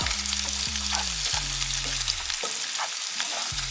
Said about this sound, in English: we're really just cooking this until the bacon gets more crisp